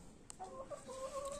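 Country hens in a rooftop terrace cage cluck softly and repeatedly nearby, short warbling calls over quiet background noise.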